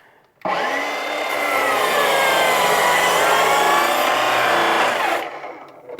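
A saw makes a miter cut through a wooden wall board for a grill shack, a loud continuous whining rasp lasting about five seconds that begins abruptly and fades at the end.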